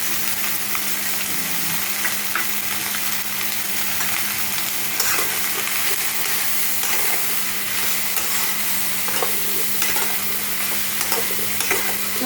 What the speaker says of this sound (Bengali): হালকা ভেজে নেব আমি একটু হালকা